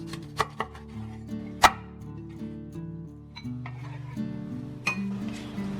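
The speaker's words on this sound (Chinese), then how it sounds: "然后我们这个身子部分就给它切成小块" A knife chops a filefish body into small pieces, with a few sharp, separate strikes on the board, most in the first two seconds, over a steady tonal background.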